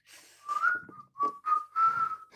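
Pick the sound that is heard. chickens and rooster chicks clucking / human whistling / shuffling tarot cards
human whistling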